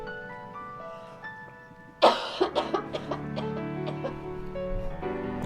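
A woman coughs in a scene from the film Scream VI. A harsh, close burst of several rapid coughs stands out over quiet background music.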